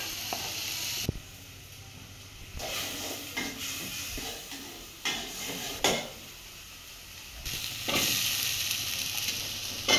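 Chopped and blended onion with green chili sizzling in hot oil in a pan as ground turmeric is added, a steady close hiss broken by scrapes and clatter of a spoon stirring against the metal.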